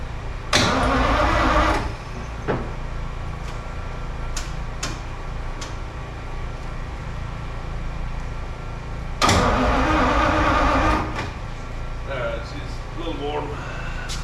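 A 1950 Pontiac Chieftain engine cranks in two loud bursts of starter whine, the second catching into a rough idle, with a steady running drone between and after.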